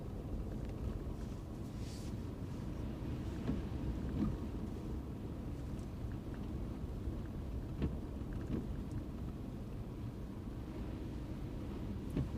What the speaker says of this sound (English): But that sounds like freezing rain.